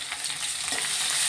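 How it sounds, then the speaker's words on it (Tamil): Onion and garlic sizzling as they are stirred in a hot oiled pan for a Tamil home-style curry, a steady bright frying hiss with soft scraping stir sounds, close and alone. "வெங்காயம் சேர்த்துக்கலாம். சும்மா கொஞ்சோண்டு பூண்டு போட்டுக்கலாம். நல்லா வதக்கிக்கலாம்."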